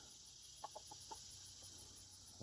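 A McLean gamefowl stag, a young rooster, gives a short run of soft clucks near the middle, several quick notes in a row, faint over a steady hiss.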